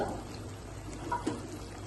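Hot water is poured into a simmering country-chicken curry, a soft, fairly faint pouring and trickling with a couple of small splashes near the end.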